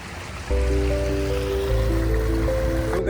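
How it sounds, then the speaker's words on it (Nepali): Rainwater flows steadily across a flooded road in a continuous rushing wash, starting abruptly and staying loud and close, with a faint tonal hum running underneath. "कस्तो पानी पुरै यहाँ रोडमा पानी भरिरहेको"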